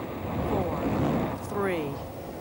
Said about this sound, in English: Booster ignition and liftoff of Endeavour in pursuit of a Japanese satellite.